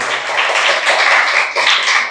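A church congregation applauds during a Portuguese-language sermon, with sustained, even clapping from many hands filling the room at close range, with no voices on top.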